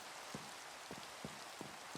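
Steady rain falls in the Minecraft video game, a soft constant hiss at low volume with a few faint, evenly spaced low thuds running beneath it.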